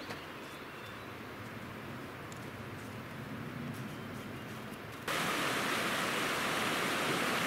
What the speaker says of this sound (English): this is Unicorn Creek coming out of Elizabeth Lake